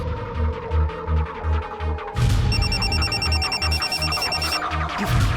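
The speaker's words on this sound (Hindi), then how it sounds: "फोन किसका आया था?" A telephone rings in a crime drama scene with a throbbing electronic ring pattern, pulsing steadily at first, then a brighter, louder warbling tone joins, all close and insistent with no talk.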